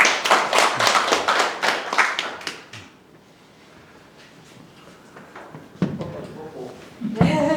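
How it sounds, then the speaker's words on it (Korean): An audience at a lecture hall health class claps briskly for about three seconds. A quieter stretch with faint sounds follows, then a few thumps and a voice at the end. "자, 박수."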